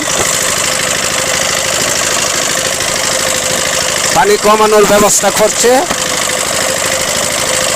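A motorboat engine chugs steadily in the background while someone talks over it, with a splashing burst partway through as water is bailed from the boat.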